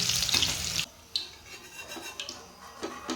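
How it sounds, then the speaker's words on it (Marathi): Green chilies frying in hot oil for corn pakoda give a bright hissing sizzle that stops abruptly, followed by quieter crackle and a few light scrapes as they are lifted out. "भज्यांसोबत खूप छान लागतात मिरच्या तळून झालेले आहेत आता आपण हे काढून घेऊया"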